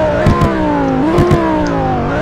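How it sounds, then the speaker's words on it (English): A 2021 Audi R8 V10+ Spyder with performance trim in the Roblox game Greenville gets a quick rev, a loud, close synthetic engine tone that climbs, dips and rises again, with a few brief pops on top. "Let's give it a quick rev."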